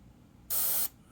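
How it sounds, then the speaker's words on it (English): An airbrush loaded with gray India ink gives one short, close test burst, a sharp, even hiss that starts and stops abruptly over quiet room tone. "I'll just spray that a little bit right now for a test with the gray"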